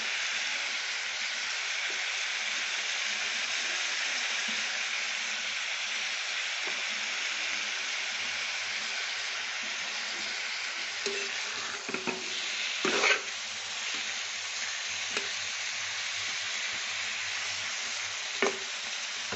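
Chicken stew pieces being stir-fried in a pan hiss with a steady sizzle, with occasional scrapes and clinks of a spatula against the pan toward the second half, close and without talk.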